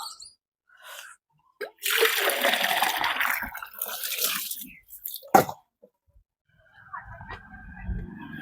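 Water poured from a jug, a broad splashing gush lasting a few seconds, followed by sparse drips and quieter background noise.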